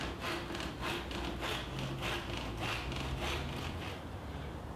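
A hand saw cuts through a board resting between two sawhorses in steady back-and-forth strokes, each rasping pass evenly spaced and close by.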